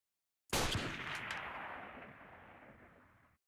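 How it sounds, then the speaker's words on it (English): A single loud sniper rifle shot in a video game cracks after a brief silence, then a long rumbling echo fades over about three seconds, with no voices. "Let's use the old snipper riffle."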